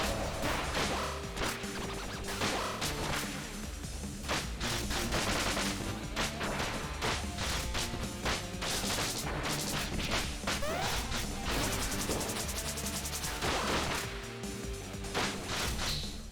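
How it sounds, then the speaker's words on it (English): An explosion in the video game Spark the Electric Jester 3, a dense crash of effects that stays loud and steady within busy game music and rapid action sounds throughout, with no voices. "I've never had you do the explosion so fast."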